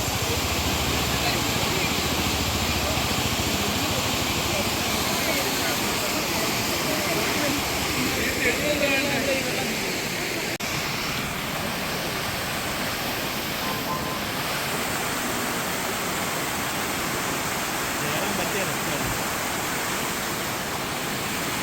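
A rain-fed waterfall at Vagamon during the monsoon gives a dense, unbroken rushing roar that holds steady and fairly loud throughout.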